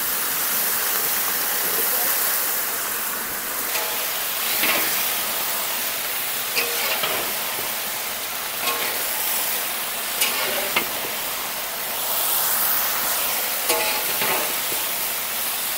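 Remaining vegetables frying in a pan for a festive khichuri, with a dense, steady sizzle throughout and occasional scraping and clattering of a spoon as they are stirred, close and loud.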